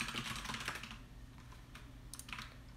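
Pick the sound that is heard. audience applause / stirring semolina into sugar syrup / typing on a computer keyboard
typing on a computer keyboard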